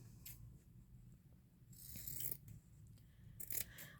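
Scissors snip scraps for a handmade birthday card, giving a few quick, faint close-up cuts in a quiet room, with light handling rustle between the snips.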